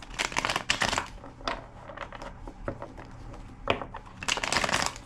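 Rapid papery riffling and snapping of cards being shuffled, in several bursts with short pauses between, close and fairly loud.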